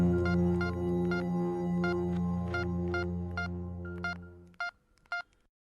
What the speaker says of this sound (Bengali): এই কথা মাথায় আসতেই আমি অবনীবাবুকে ফোন করি।